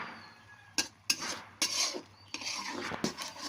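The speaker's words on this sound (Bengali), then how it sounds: "একটু ভালো মতন করে কষায় নিচ্ছি, যেন চিংড়া মাছটা একটু ভাজা ভাজা হয়ে যাক" Prawns are stir-fried with onion and green chili in mustard oil, with a metal spatula scraping and tapping the pan in several sharp, separate strokes over a faint background.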